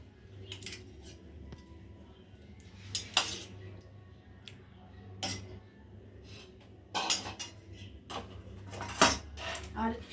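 A spoon serves soybean curry and other dishes onto a plate, irregular close clinks and scrapes of metal cutlery against dishes in short bursts, with a voice speaking quietly between them.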